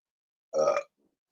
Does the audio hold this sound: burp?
yes